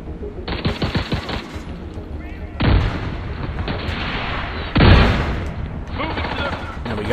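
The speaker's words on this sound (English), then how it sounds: "We got rockets coming at me." Rockets fired in The Division 2 land among rapid automatic gunfire, with two loud booming blasts standing out over the continuous shooting.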